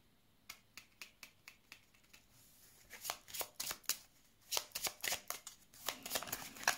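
Tarot or oracle cards being shuffled for a reading, first a row of crisp single snaps, then rapid riffling bursts in quick succession, close and fairly quiet.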